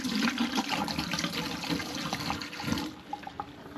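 RV antifreeze poured down the drain traps of a camper makes a continuous gurgling, splashing flow. It stays fairly steady, thins out near the end and ends in a few drips, with no talk over it.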